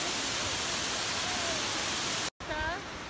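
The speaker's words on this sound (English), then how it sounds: "Came down to the waterfall again." The Kuang Si waterfall in Luang Prabang gives off a loud, steady broadband roar of rushing water, broken by a short cut, after which a voice is heard briefly over the continuing roar.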